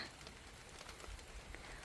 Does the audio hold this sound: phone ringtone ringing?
no